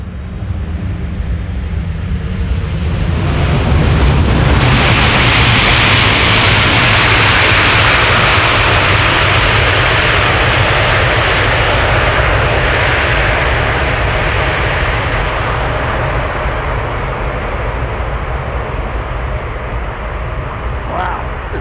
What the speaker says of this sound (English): Atlas Air, let's look and listen. Will they use the reversers?